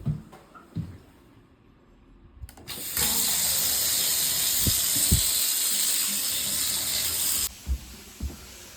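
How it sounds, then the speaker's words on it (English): A hot tap opened after the stop tap is shut off releases a loud, steady hissing rush of water and spray for several seconds, ending abruptly, with a few knocks and clunks before and after. "We're going to turn off the stop tap and open up a hot tap somewhere."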